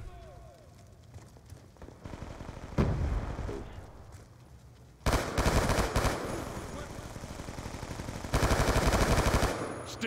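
Sustained automatic gunfire in Black Ops 2, rapid bursts that grow louder and denser partway through, with a voice talking faintly under the shooting.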